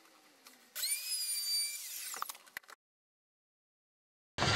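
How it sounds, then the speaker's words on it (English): A wood router edging a wooden toy box spins up to a high, loud whine for about two seconds, then winds down with a few knocks before silence and a brief burst of noise at the end. "So I need to router all around these edges, inside and outside"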